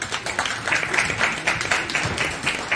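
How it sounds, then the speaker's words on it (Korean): An audience at a book concert claps steadily, a dense, fairly loud, continuous patter of many hands. "자 우리 다시 한번 힘찬 박수"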